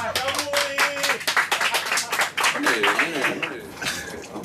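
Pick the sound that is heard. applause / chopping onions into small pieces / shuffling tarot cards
applause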